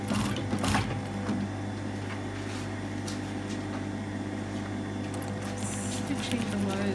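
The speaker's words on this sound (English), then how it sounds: "Back stitch." A sewing machine runs a back stitch on a tunic seam, a low steady mechanical hum with light clicks, close by, while a person talks over it.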